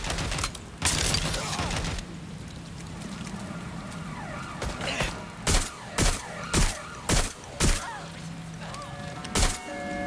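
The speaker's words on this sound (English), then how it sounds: "Gunfire!" Gunfire in the video game Watch Dogs: Legion, with several sharp shots and a tight cluster of five or six loud bursts in quick succession over a busy background of game noise.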